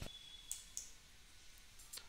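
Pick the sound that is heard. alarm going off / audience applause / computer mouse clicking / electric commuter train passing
computer mouse clicking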